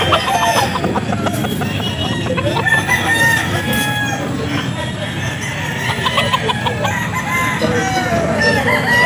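Several chickens cluck and a rooster crows nearby at a pet market, with people chatting in the background throughout.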